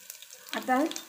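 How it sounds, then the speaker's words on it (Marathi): Garlic cloves crackling in a hot oil tempering with cumin, a short faint sizzle swelling briefly, with a brief tonal sound over it. "लसणीच्या पाकळ्या छान अशा तडतडत आहेत"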